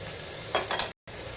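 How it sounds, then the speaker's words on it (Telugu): Coarsely crushed garlic fries in hot oil for a bottle gourd curry, giving a brief sizzle and a stir before cutting off. "బ్రౌన్ కలర్లో వచ్చేంత వరకు అయితే వేపుకోవాలి ఇంకా వేగలేదన్నమాట"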